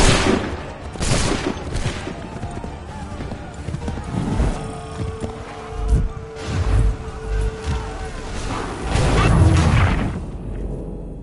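Musket volleys in an Assassin's Creed 3 Remastered battle on PS5 crackle as several rolling bursts amid a noisy battlefield with hoofbeats and shouting voices.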